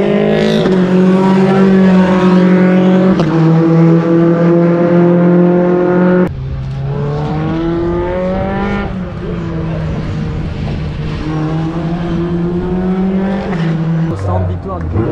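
A Feed Racing race car accelerates hard through the final corner, its engine note rising and shifting in loud sustained harmonic whines, with a commentator speaking over it.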